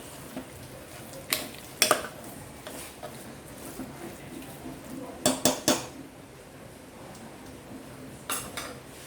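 A spoon stirs khichadi in a metal pot. Scattered clanks and scrapes come in small clusters over a soft background hiss, close and moderately loud.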